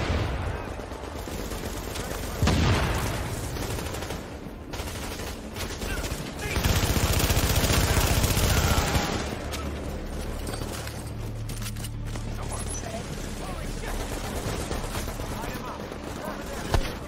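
Continuous video game combat with rapid gunfire and heavy grenade-like blasts, dense and loud throughout with louder swells, while people talk over it.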